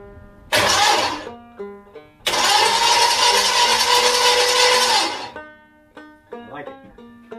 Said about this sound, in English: I'm just going to spin this thing over. I want to hear it turn over with the valve all working up and down.